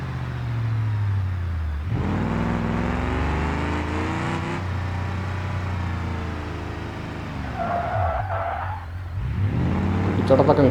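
In the BeamNG Drive racing game with a career mod, a worn used car with around 300,000 km drives with a steady engine drone. Its tires squeal and skid loudly midway and again at the end, and a voice speaks briefly.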